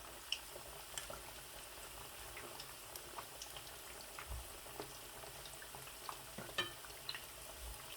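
Fish pakoda pieces fry in hot oil, a soft, continuous bubbling crackle scattered with small pops and occasional light knocks, heard quietly and alone.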